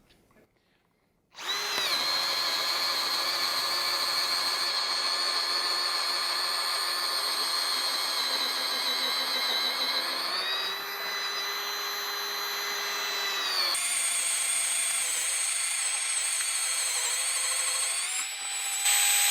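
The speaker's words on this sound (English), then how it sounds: "we're going to drill some fairly large holes in this fence post in first gear with this machine" Bosch cordless drill boring large holes in a fence post in first gear, starting abruptly then whining steadily and loudly up close, with pitch shifts as the bit bites and frees through the wood.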